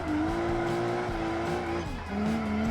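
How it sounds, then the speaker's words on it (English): In the BeamNG driving game, an ETK I-Series car squeals its tires after a clutch kick into third gear: a steady, loud tonal squeal over engine noise that dips briefly, then resumes. "Big clutch kick into third."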